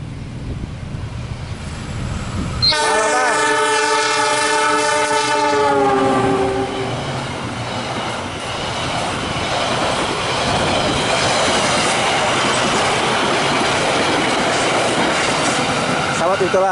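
A train horn blares loudly, then a fast long-distance train roars past nearby through Cimekar station, Bandung, with a sustained rushing, rumbling clatter that continues to the end.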